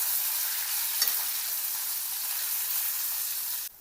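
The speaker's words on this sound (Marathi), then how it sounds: "तेलामध्ये मिरच्या टाकायच्या, थोडे धने टाकायचे, थोडं काळं फूल टाकायचं आणि याला चांगलं परतून घ्यायचं।" Green chillies, coriander seeds and a little black stone flower stir-fried in hot oil, a steady close sizzle with faint scraping and a single sharper clack near the middle, cutting off just before the end.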